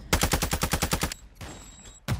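Rapid automatic gunfire in a multiplayer shooter game, a burst of about ten sharp loud shots in quick rhythm, then a brief pause and another single shot.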